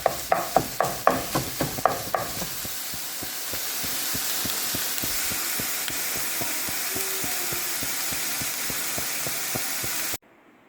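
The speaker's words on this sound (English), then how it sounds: "I got some onion in here and it's cooking, as you can see." Onion and ground beef frying in a pan with grease, a steady close hiss and sizzle, opened by a quick run of sharp spatula taps and followed by softer regular ticks of stirring.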